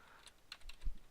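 Keystrokes on a computer keyboard, a short run of a few light, uneven clicks with a firmer thump near the end, fairly quiet and close, with no talking.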